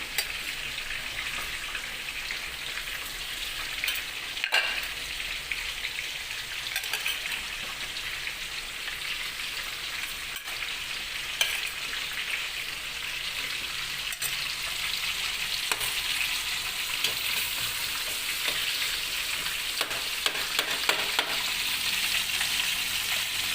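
Garlic and onion sauté in a pan with a constant bright sizzle and light crackle like patter of rain, a few scraping stirs marking the steady frying.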